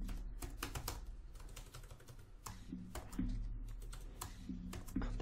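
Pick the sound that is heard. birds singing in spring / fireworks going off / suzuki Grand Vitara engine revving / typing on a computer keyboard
typing on a computer keyboard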